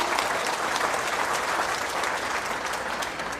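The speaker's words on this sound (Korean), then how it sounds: "박수 부탁드립니다" Dense, steady audience applause fills a ceremony marking the opening of a new district office building in Gwangjin-gu, Seoul, holding loud and continuous before easing slightly at the end.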